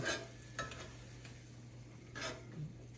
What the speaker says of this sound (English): Let it cook down, mix it all up